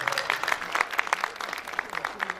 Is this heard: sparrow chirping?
no